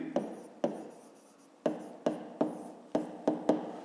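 Pen strokes on paper during a fifth-grade maths exercise, a series of separate short scratchy marks, close and fairly quiet, irregularly spaced, with no talking.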